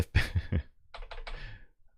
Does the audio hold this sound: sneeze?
no